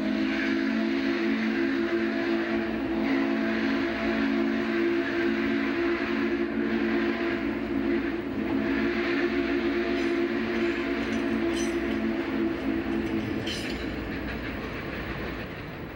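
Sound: A&WP 290 train on the Norfolk Southern main line

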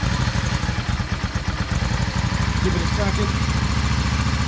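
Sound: Yamaha Star 650 motorcycle engine starting after carburetor cleaning

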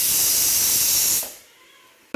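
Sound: pressure cooker third whistle releasing steam

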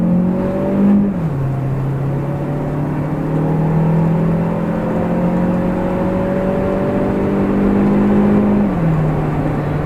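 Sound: Chery Tiggo 8 Pro LPG car accelerating from standstill

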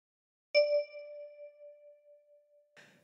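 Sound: 10-key kalimba note plucked with thumb

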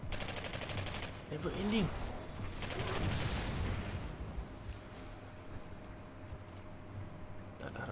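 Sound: gunfire in video game Singularity

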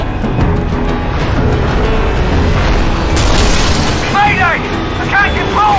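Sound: Pelican dropship going down with explosions in Halo 3 video game

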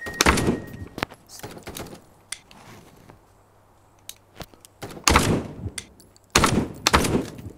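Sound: rifle gunfire in VR shooter game Contractors

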